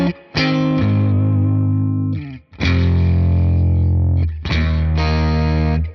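Three sustained distorted electric guitar chords ring out through a Neural DSP amp plugin, each separated by a brief gap, with heavy low end and gritty breakup, played alone without talk.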